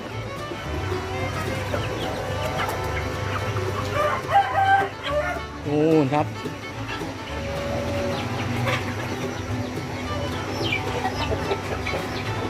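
Several chickens cluck and a rooster crows nearby, with a voice speaking briefly over the loud farmyard clamor.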